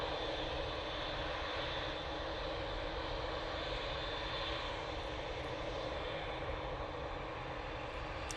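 A Boeing 787-8 Dreamliner jet departing Manchester Airport for Cancun, its engines a steady, faint, far-off broadband roar that holds constant without a clear peak.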